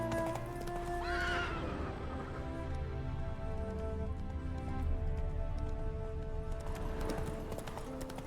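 A horse in The Witcher 3 video game whinnies twice, once near the start and again near the end, over a soft bed of ambient sound.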